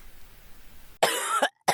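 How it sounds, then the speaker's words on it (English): A woman coughs in two harsh, close bursts after a moment of quiet room tone, with a rough wheezy edge to the second fit. "Ashlyn began to cough and wheeze"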